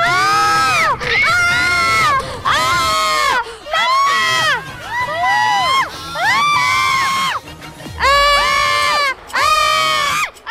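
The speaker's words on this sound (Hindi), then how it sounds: "अरे ये चीखने की आवाजें तो शिफा हादी की लग रही हैं।" Children scream and shriek loudly in repeated long bursts, several voices overlapping with short gaps between cries.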